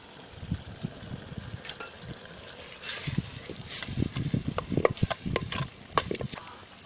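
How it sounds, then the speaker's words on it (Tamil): Ground ginger sautés in a pan with chili powder and turmeric, a soft steady sizzle broken by scraping stirring strokes that grow busier and louder partway through, close by with no talk. "அந்த அரைச்ச இஞ்சி இதில் சேர்த்து வதக்கிட்டு இருக்கேன்"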